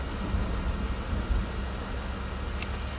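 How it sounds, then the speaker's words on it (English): Rumbling thunder rolls through a rainy Farming Simulator 19 game scene, a low steady storm roar with rain hiss, moderately loud and without talk. "Ooh, that thunder."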